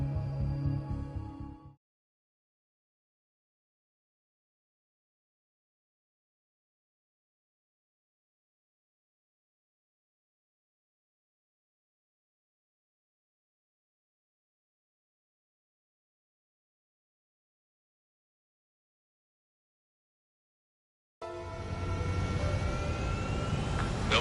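Jet fighter engine roar while taxiing in Ace Combat 7 on PS5, loud and broadband, heard briefly at the start, then long silence, then swelling back steadily at the end.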